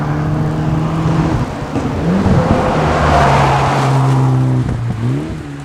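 A tuned Mitsubishi EVO X on an open road, its engine droning loud and steady with pitch rising and falling through gear changes, a brief lift near the end before climbing again.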